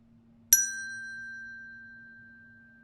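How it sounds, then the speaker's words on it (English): A single clear bell strike rings out and sustains a long, pure tone that slowly fades in a quiet room. "when you no longer hear the mindfulness bell ringing"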